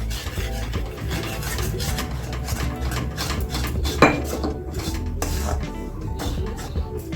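Rice flour stirred into a pot of milk for Bengali dudh pitha, a steady scraping and clinking of a spoon against the metal pot, continuous and close, with one sharper knock midway.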